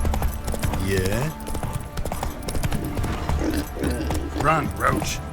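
Roach, a horse in the video game The Witcher 3: Wild Hunt, clip-clops along at a steady running gait, hooves drumming under a man's spoken lines and game music.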